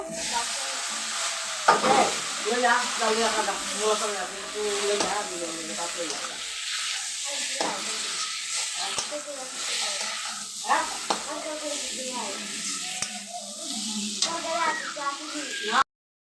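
Masala spices frying and sizzling in a pan while being stirred, a steady broadband hiss with scraping stir strokes throughout, close and continuous.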